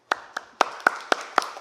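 A small group claps for a presenter being introduced at an academic conference, six or seven separate sharp claps spaced about a quarter second apart, sparse and brief rather than sustained applause.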